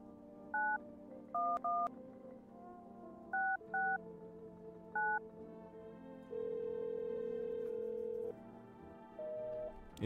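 Keypad tones sound as a telephone number is dialed in the horror game No, I'm Not A Human: several short beeps in uneven bursts, followed by a long steady tone and a final shorter one, clear and close over a soft musical background.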